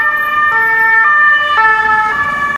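Police siren on a Paris street, a loud two-tone wail alternating steadily about every half second, close by and continuous with no talk.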